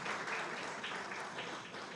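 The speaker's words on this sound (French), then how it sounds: "je vous demande d'applaudir la secrétaire d'État pour cette" A conference audience applauds at the launch of a national youth mayor competition in France, giving a dense, even wash of clapping from many hands. The sound stays fairly loud and continuous throughout the short stretch.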